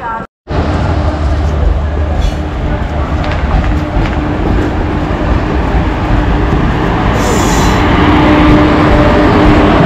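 The Chemmozhi Express passenger train rumbles along continuously with loud, steady roaring and rattling, wheels and carriage noise filling the space from start to finish.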